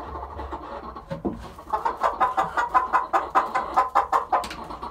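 Easter Egger chickens cluck repeatedly inside a newly completed coop, a steady run of close, rhythmic hen calls that grows busier and louder after the first second, with no talking.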